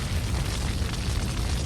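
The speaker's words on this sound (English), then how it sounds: "This time there was only one explosion." An explosion effect from the visual novel Dracu-Riot rumbles as a single loud, dense boom that fills the whole moment with heavy low-end roar and no voices.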